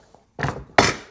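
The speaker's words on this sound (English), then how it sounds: "can I hammer that loose?" Two sharp, close hammer blows strike metal while a part is knocked loose on a Porsche 951 engine during a top-end rebuild, the second hit louder than the first, with nothing else around them.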